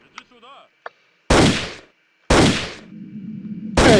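Gunfire in the video game Indiana Jones and the Great Circle: after faint blips, three loud, close, booming shots ring out about a second apart, each with a decaying tail and a low rumble between.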